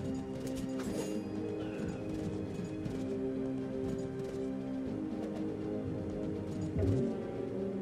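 Horse archers gallop in a video game battle, producing a dense, continuous clatter of hooves mixed with battle noise and musical tones at a fairly steady level.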